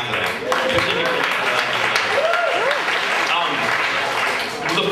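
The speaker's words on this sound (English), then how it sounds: "we should really clap for that" Audience at a Nerd Nite mathematics talk clapping in a dense wash of applause, with a voice speaking over it.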